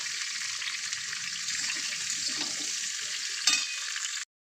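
Pointed gourd and potatoes frying in hot oil with whole spices give a bright, even sizzle, with one sharp stirring clatter near the end before the sound cuts off abruptly.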